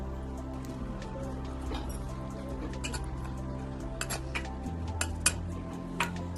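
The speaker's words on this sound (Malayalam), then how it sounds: "ഇനി ഒരു ചട്ടി എടുത്ത് അതിലേക്ക് ബീട്രൂട്ട്, ആവശ്യത്തിന് വെള്ളം, 1 ടീസ്പൂൺ ഉപ്പും ചേർത്ത് നന്നായി മിക്സ് ചെയ്യാം." Beetroot, water and a teaspoon of salt are stirred together in a cooking pan, giving faint, scattered metallic clinks and scrapes over a low steady hum.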